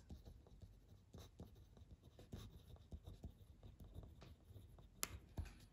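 A pen writes an answer by hand on paper, close and quiet, with irregular short scratching strokes and small taps, and no talk.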